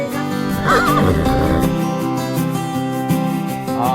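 A native Thai breed horse on a farm stay lets out a loud, close whinny with a wavering, rising and falling pitch, heard over a steady musical background with no talking.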